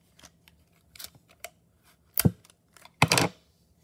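Tape pulled and torn while wrapping a handmade paper flower pen, a few soft scattered crackles and then two louder ripping bursts close by.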